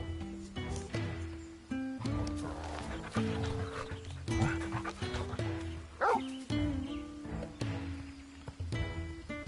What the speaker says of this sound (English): This is Torgo, a wolf pup raised in the duchy.